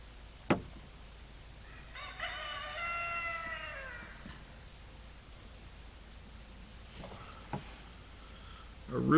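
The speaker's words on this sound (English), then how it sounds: "Our roosters are enjoying their crowing this morning." A farm rooster crows once at a distance in the morning, a drawn-out call over quiet background hiss, with a few faint knocks before and after.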